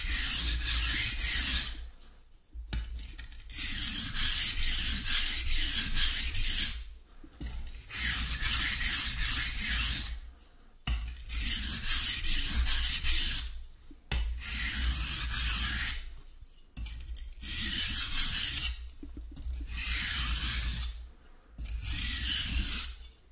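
A knife blade rasps back and forth across a sharpening stone in steady passes, with brief pauses between sets of long, even grinding strokes; close and fairly loud, no talking.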